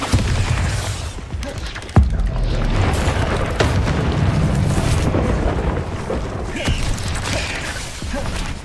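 Bombarda blasting spell explosions in Hogwarts Legacy combat, a continuous loud roar of booms, crackling and mechanical rattling with sharp impacts, no talking.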